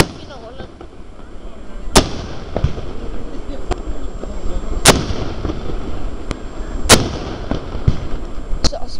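Firework rockets burst repeatedly across a crowded display, several sharp loud bangs spaced a couple of seconds apart over a constant crackle and murmur of background voices.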